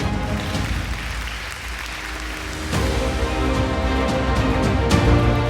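Audience applause for an award winner from SB Tape Group at a corporate evening event, a steady, dense patter of clapping that swells slightly louder about halfway through, with music or a hall tone humming underneath.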